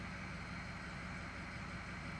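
A 2006 Ford 6.0 Powerstroke diesel idles rough with a steady, low, droning engine rumble that continues without a break and has no voices over it.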